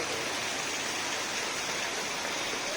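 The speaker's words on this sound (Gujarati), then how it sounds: "ફૂલ વરસાદ ચાલુ થઈ ગયો છે." Heavy rain pours steadily at a home, a dense, continuous broadband hiss with no breaks or voices throughout.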